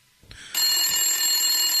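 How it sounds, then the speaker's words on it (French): A telephone rings in the middle of the night, a steady bright electronic ring that starts abruptly after a faint knock and holds loud and continuous. "mon téléphone il sonne"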